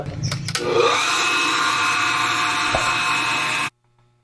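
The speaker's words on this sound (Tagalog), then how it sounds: "Ayun, gumagana yung bomba." An electric water pump runs steadily at a well, a dense continuous whirring drone with a low hum, starting after a few clicks and cutting off abruptly near the end.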